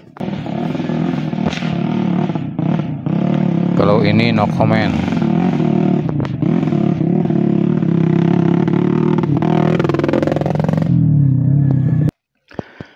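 A local resident's motorcycle with chain-wrapped tires runs loudly and revs under steady talking, its drone rising and falling for most of the stretch before cutting out near the end.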